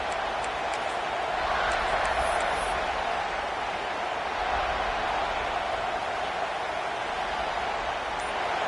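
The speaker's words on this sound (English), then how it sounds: "This crowd trying to do its part to get inside the kicker's head." Football stadium crowd before a field goal kick, a broad steady roar of many voices filling the space, sustained and even with no individual voices standing out.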